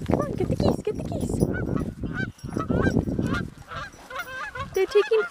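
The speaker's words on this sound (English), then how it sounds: "So we're just chasing the geese right now." A flock of geese honks repeatedly and close by as a horse on a race track chases them, with loud overlapping calls rising toward the end amid movement noise.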